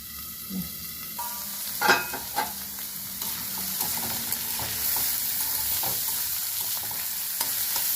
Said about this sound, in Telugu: ఇప్పుడు క్యారెట్ ముక్కలు వేసాను కొంచెం మూత పెట్టి